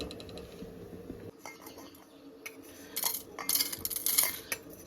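Golden fried vermicelli is transferred from the pan into another bowl, with metal spoon scrapes and clinks against cookware that grow busier and brighter toward the end, close by and without talking.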